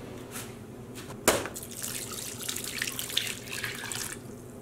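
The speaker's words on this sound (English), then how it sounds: "I am gonna add some more water in here so it can be completely submerged" Tap water runs steadily into a dye pot holding wool and cotton yarn soaking in soda ash solution, a continuous close splashing pour with a sharp knock near the start and no talking.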